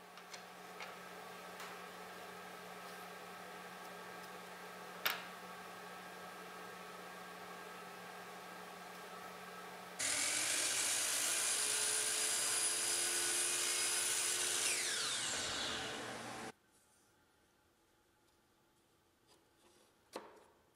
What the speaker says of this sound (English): A great way to make adjustments to small molding profiles is to use a disc sander.